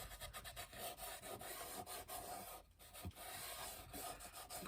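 Fingers rub ash onto a wooden box guitar with quiet, steady scratchy strokes, heard up close with brief pauses and no speech.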